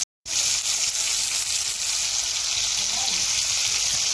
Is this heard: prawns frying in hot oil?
yes